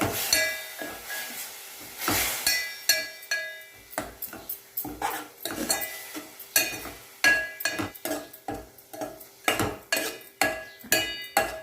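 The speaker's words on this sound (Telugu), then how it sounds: "ఇప్పుడు కొద్దిగా వాటర్ పోసుకొని వాటర్ ఇనికేంత వరకు కలుపుకోవాలి." A spoon scrapes and clinks against a pan in a rapid run of distinct strokes while tamarind leaves are stirred with a little water, sharp metallic taps close and clear over quiet gaps.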